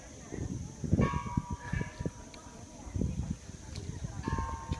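Temple bells ring at Doi Suthep in Chiang Mai, Thailand, sounding a few scattered clear metallic tones, moderately close, while people talk and move about nearby.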